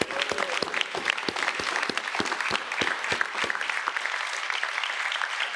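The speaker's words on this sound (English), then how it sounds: "Can we give them a hand clap, please?" An audience at a New York City announcement by Governor Hochul applauds steadily throughout, dense clapping from many hands with some distinct sharp claps, fairly loud and close, fading slightly near the end.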